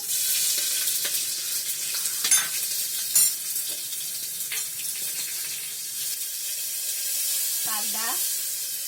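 Cumin seeds, green chillies and garlic hit hot oil in a pan with a bright, continuous sizzle and hiss. A few clinks of a stirring spoon come through, and one short voice-like sound rises near the end.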